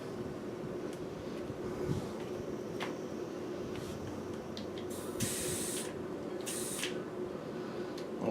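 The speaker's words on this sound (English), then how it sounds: "that was the sound of the bead popping onto the rim" Tubeless tire bead snapping onto a Stan's MK3 Flow bicycle rim during inflation: a few faint sharp pops over a steady background hiss, with two loud bursts of rushing air near the end.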